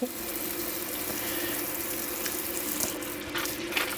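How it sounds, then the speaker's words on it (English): Apples are washed under a running kitchen tap, a steady close rush of water splashing into a sink with small shifts as the fruit is turned. "It is ASMR for apple washing."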